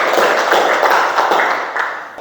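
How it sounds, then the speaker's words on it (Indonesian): A classroom of Indonesian students breaks into brief applause, a dense burst of clapping that starts loud and fades over a couple of seconds. "luar biasa, tepuk tangan"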